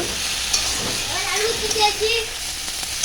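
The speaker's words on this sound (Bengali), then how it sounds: "এবার আলুটা ভালোভাবে কষিয়ে নেব।" Potatoes stir-fried in a pan, a steady sizzle with occasional scraping stirs, close, with faint voices in the background.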